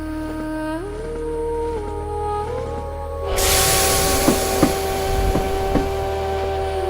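A moving train rolls along with steady tonal hums that shift in pitch, then a burst of loud hissing like released steam, with several sharp clanks over the noise and no voices.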